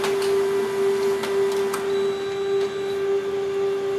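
A Canon imageClass MF654Cdw colour laser printer runs a wireless print job sent from a smartphone, giving a steady, loud mechanical hum with a strong constant tone and a few faint clicks, with no talking.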